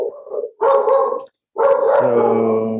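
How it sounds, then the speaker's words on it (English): Dogs barking indoors during a conversation, a couple of loud bursts of barks and yelping howls close by, with a brief spoken word at the start. "Sorry for the dogs."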